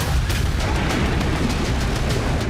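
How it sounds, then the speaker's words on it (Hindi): Missile strikes explode in a residential area, heard as a dense, loud rumbling barrage with repeated sharp bursts and booms layered over a continuous low roar. "यहां रिहायशी इलाके में धमाके हुए हैं।"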